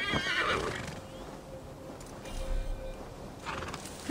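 A horse in the Assassin's Creed Valhalla video game gives a loud, close whinny at the start, followed by faint clip-clopping hooves and quieter snorts.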